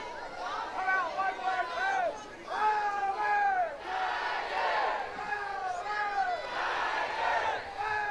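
A college softball crowd at a Florida versus Auburn game rallies behind the Auburn Tigers, with rhythmic rising cheers and chant-like shouts swelling in repeated waves, loud and sustained, with a commentator's voice mixed in.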